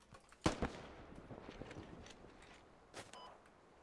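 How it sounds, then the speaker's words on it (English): Gunfire in the video game Squad, a sharp nearby shot followed by a second crack, then scattered fainter distant reports over a low battlefield rumble. "He keeps shooting at me."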